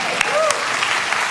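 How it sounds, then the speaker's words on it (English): Audience applause for a performer named Puff, a short burst of clapping from a crowd with a voice speaking over it. "let's give Puff a clap as well"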